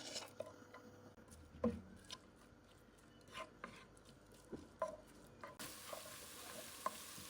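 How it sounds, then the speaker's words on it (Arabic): Chopped onion and carrots fry in vegetable oil, a soft sizzle broken by repeated stirring scrapes and light utensil knocks, fairly quiet and close, with no one speaking. "بنقلي البصل لمدة دقيقة."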